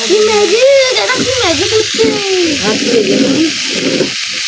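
Vegetables stirred while frying in oil in a pan at home, a steady hiss of sizzling running under a person's voice speaking over it throughout.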